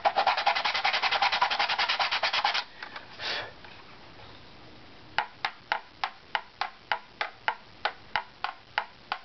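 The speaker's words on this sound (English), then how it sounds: "Back to a scraper." Steel scraper working a wooden instrument backplate: a quick run of dense rasping strokes, then a pause, then slower, evenly spaced crisp scrapes, close up with no talking.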